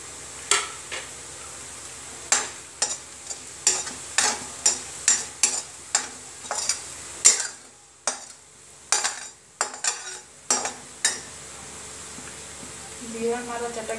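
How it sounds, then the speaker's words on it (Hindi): Cumin seeds crackle in hot oil in a pan for a restaurant-style veg biryani, a run of sharp pops and sizzles close by, with a brief hush in the middle before the crackling resumes. "जीरा हमारा चटक गया है।"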